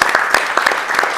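A studio audience on a televised cycling programme applauds, with dense, steady clapping from the stands that fills the whole moment, a few sharper individual claps standing out.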